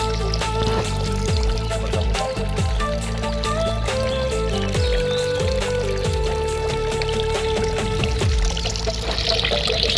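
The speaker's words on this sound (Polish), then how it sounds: "Uzupełnianie płynów." Water poured into bottles at a refill stop on a long mountain bike climb, a steady close pour that runs continuously for about ten seconds over a busy, tonal background.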